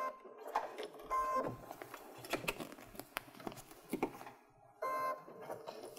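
A sewing machine stitches an appliqué snowflake onto pillow fabric in short start-stop bursts, a whirring motor broken by scattered light mechanical clicks and taps, fairly quiet and close.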